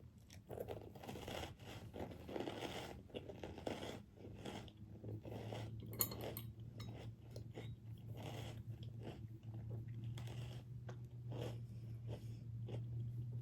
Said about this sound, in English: This is going to be a crunchy one.